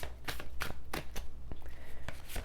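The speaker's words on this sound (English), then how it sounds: "Let me do some shuffling." Repeated brisk riffles of a deck of tarot cards being shuffled, close by, several bursts in quick succession with no talking.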